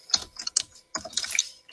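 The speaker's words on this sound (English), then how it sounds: "Yeah, I'm typing it." Clicky bursts of keystrokes on a computer keyboard, rattling in two quick clusters with a short pause between, close and fairly quiet with no voices.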